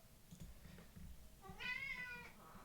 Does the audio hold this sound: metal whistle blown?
no